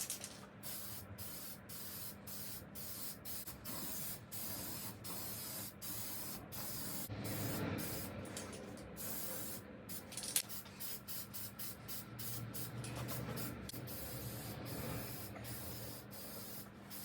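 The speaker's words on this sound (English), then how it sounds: "Ruby Red Metallic Pearlescent Spray Paint" Ruby Red Metallic Pearlescent spray paint hissing from an aerosol can onto an old tool roller cabinet, in repeated bursts separated by short pauses, close and steady, alone without talk.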